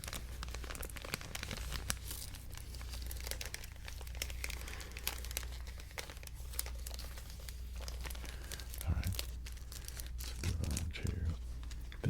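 Various materials crinkled up close for ASMR, with dense crackling and rustling throughout, a few sharper crunches near the end, and a faint voice at times.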